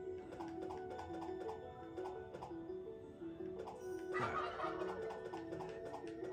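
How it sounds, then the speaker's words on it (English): Turkeys gobble in repeated bursts under a steady rhythmic ticking background, with a louder burst of gobbling near the end; no one speaks. "If you heard that, those are turkeys."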